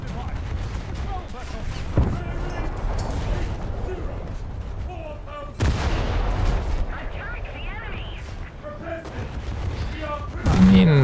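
Warship anti-aircraft guns firing in a naval combat video game, a dense rapid barrage of booms and cracks rolling continuously with louder bursts, while someone talks over the gunfire.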